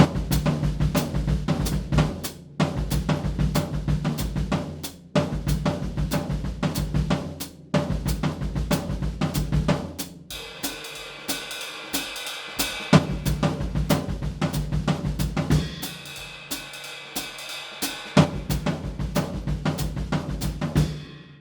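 Drums play fast eighth notes in repeating three-note patterns of short hits, bass drum and snare or cymbal, with brief pauses between repeated phrases.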